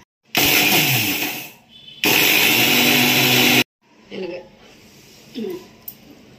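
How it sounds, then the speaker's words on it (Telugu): A mixer grinder coarsely grinding pickle spices with cumin, two loud close whirring bursts of a second or so each with a short pause between, followed by quieter moments in which a voice speaks. "ఇది కచ్చా పచ్చగా మిక్సీ కొట్టండి, పూర్తిగా పిండిలాగా చేసికండి"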